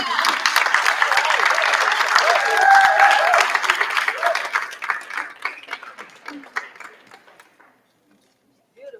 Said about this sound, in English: how about another round of applause for Ms. Jones?